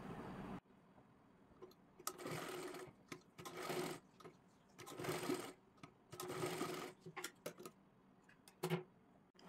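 A sewing machine stitches fabric for a hair band in short, close mechanical bursts with ticking clatter between runs, quiet overall and without speech.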